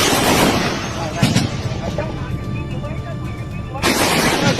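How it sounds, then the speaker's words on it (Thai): Gunfire along the Thai–Cambodian border near Ta Phraya, Sa Kaeo, heard as heavy booming bursts at the start and end with a quieter crackling stretch between, loud and somewhat distant. "จะยิงกดอยู่ครับ ยิงเบาบางยิงเบาบาง"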